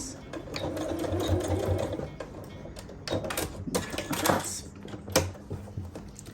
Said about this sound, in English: Coming to the end, and I will just lock those stitches.